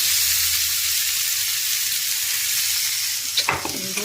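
Tempering for cucumber chutney fries in hot oil with a loud, steady hissing sizzle, near and continuous, ending in a brief clatter of stirring.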